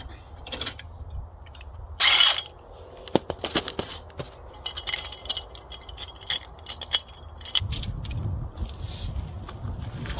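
Metal parts of a vintage trailer's hitch latch are pulled out and set aside. Scattered clinks, rattles and scrapes come close up, including a short harsh burst, ending in a low rumbling shuffle.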